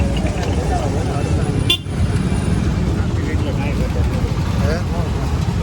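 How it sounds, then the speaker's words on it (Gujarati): Busy city road at a red signal in Surat, with dense traffic rumble and a few car horn toots, while a person talks over the noise throughout. "સિટીમાં નીકળું ટ્રાફિક બહુ થાય"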